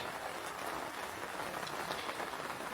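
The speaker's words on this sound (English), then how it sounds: "Sitting in the tent under the rain" Rain patters steadily on a tent in a Swedish forest, a dense, even hiss of drops close by for a few seconds with no talking.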